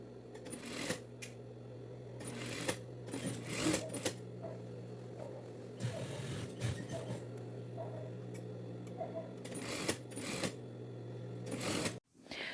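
A sewing machine stitches the waistband of women's dress trousers in close, short mechanical bursts of rapid needle clatter. Quieter pauses and small handling sounds fall between the bursts, with no one speaking.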